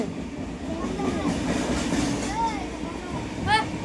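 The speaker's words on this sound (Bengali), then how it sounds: "তুমি ভয় পেলে আপু ভয় পেলে ট্রেনের আওয়াজে" A train rumbles past from on board, with steady rolling noise and rail clatter, a brief squeal near the end, and voices talking over it.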